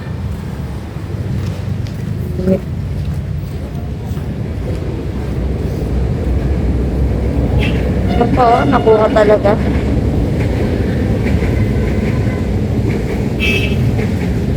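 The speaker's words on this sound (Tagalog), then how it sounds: "Yan ang LRT po, LRT." A heavy, rumbling LRT light rail train rolls past nearby with a continuous low roar and some metallic squeal, while a person talks over the noise.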